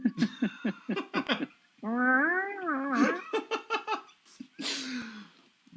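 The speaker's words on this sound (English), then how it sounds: "I can hear your cat." A pet cat meows repeatedly and close up, a run of short chirpy meows followed by a long drawn-out wavering yowl, then more quick meows and a breathy sound, with no talking.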